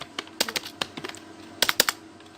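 Typing HTML code on a computer keyboard: quick, close, irregular key clicks in short bursts with brief pauses, alone without talk.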